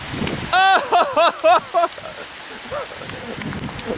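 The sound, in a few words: hailstorm, hail falling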